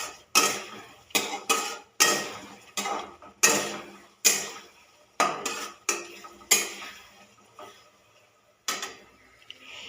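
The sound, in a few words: stirring fried potatoes and pointed gourd in pan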